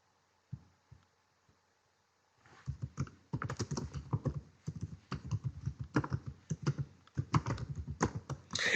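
Typing on a computer keyboard: a few isolated taps at first, then a steady, dense run of close keystrokes with brief pauses, moderately loud and with no voices.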